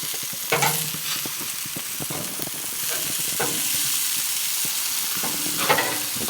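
Burger patties sizzle on a grill at a steady medium-loud level while a spatula scrapes and turns them, with several distinct flipping scrapes punctuating the frying hiss and no talking.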